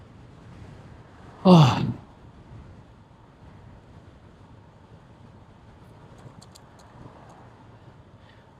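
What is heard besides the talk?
gust of wind blowing against the microphone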